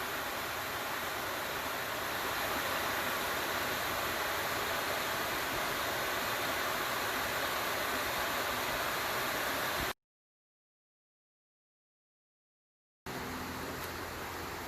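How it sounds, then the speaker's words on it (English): Steady rushing water from a small creek cascade, a constant full roar that briefly cuts out and then resumes. "I love to find waterfalls. This was a little one, little creek cascade"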